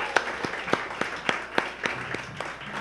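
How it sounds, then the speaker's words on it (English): An audience claps at a university MFA thesis reading, a small group producing a sparse, fairly regular string of sharp claps about three per second, close and without talk. "I want you to keep clapping"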